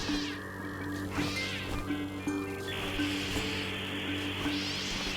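A cat meows several times in the middle distance over a steady low hum and faint background rustle, the calls rising and falling with short pauses between them.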